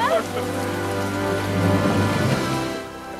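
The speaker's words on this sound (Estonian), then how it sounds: "Mulle meeldib, kui klišeelikult järsku see vihm tuli lihtsalt." Sudden heavy rain pours down in a romantic film scene, a dense steady hiss holding throughout under sustained music before easing slightly at the end.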